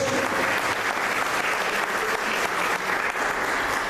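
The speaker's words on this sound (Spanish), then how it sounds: "Démosle un aplauso a nuestro Dios." Steady, dense applause from a large church congregation fills the whole stretch, loud and continuous with no voices standing out.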